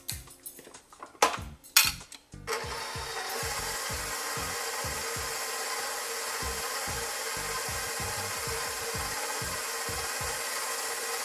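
A stand mixer with its attachment works cinnamon bun dough, starting after a few knocks and then running as a steady, loud mechanical whir with a rhythmic thumping underneath.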